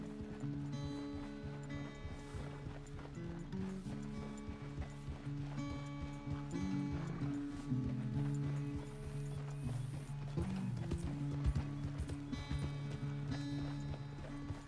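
Horse hooves walking at a steady clip-clop pace in Red Dead Redemption 2, close and continuous over a bed of game music, with an occasional whinny and people talking now and then.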